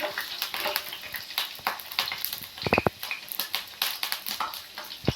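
Crushed ginger and garlic drop into a couple of tablespoons of hot oil for a capsicum chicken gravy, crackling and spattering in bursts with a few sharp pops midway, close and fairly loud, no talk.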